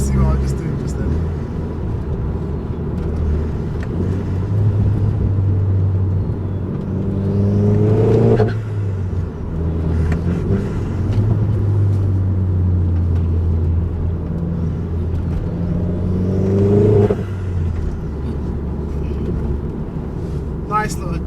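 A forged Vauxhall Corsa VXR engine drones from inside the car, repeatedly building through the revs in rising pulls before easing off, while someone talks over it.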